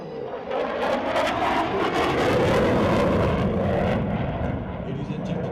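Military jet aircraft flying over a Pakistan Day parade, a loud broadband roar that swells and holds steady for several seconds before easing slightly, with no talk over it.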